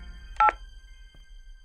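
A phone rings with an incoming call: one short electronic tone burst in two quick pulses, fairly loud and alone, then quiet.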